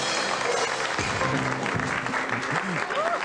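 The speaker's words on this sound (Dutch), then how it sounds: "Applaus." Studio audience applause on a 1983 Dutch TV variety show, a broad wash of clapping with a voice speaking over it and some musical tones rising through.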